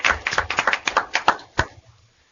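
A small group at a committee meeting claps briefly, about a dozen close, separate hand claps that thin out and stop after roughly two seconds.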